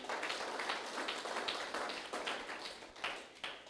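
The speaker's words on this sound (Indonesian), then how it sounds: "Tepuk tangan buat Tuhan kita." A church congregation clapping together during an online worship service, a steady broadband patter of many hands at moderate loudness, with no talking over it.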